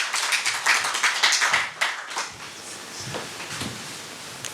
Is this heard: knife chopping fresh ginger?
no